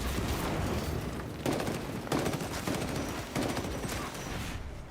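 Grenades go off in Warhammer 40k Darktide amid a dense burst of gunfire, several heavy booms layered over rapid shots, loud and continuous for the whole stretch.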